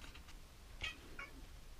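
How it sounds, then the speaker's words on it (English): A faint cat meows twice, briefly, in a workshop where a small lead-filled brass hammer is being made, with a low background hiss. "the last thing is just the cat coming in"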